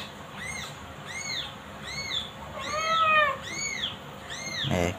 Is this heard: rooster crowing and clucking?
no